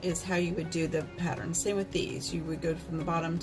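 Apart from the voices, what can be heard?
No everyday noises stand out.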